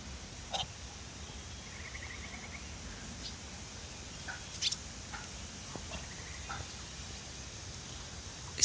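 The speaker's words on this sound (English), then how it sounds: "Muscovy ducks don't quack. They communicate by wiggling their butt and making that breathing noise." Muscovy ducks on a farm giving soft, short breathy hisses and puffs, scattered and faint over a quiet outdoor background with no talking.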